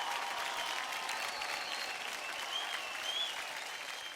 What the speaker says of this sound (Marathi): तरी सुद्धा जोरदार टाळ्या होऊन जाऊ द्या दोघांसाठी